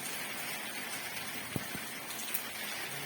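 Leftover rain drips from a gutter after a brief downpour from a small cloud, a faint, steady patter with a few distinct nearby drops standing out, and no voices.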